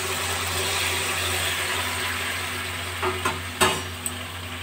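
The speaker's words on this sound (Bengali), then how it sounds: "এখন আমি 1 কাপ গরম জল অ্যাড করে দেব।" One cup of hot water goes into a pan of fried vegetables, with a steady hiss and low hum running throughout and a few sharp splashes and clatters near the end.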